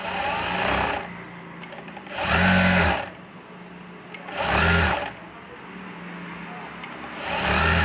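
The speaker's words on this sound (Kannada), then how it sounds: "ಹೊಲಿಗೆ ಹಾಕ್ಕೊಳ್ಳೋಣ. ಒಂದು 1/4 ಇಂಚಷ್ಟು ಬಿಟ್ಕೊಂಡು ಹಾಕ್ಕೊಳ್ಳೋಣ." A sewing machine stitches thread piping onto fabric with a quarter-inch seam allowance, running in three loud, steady bursts of about a second each with quieter pauses in between.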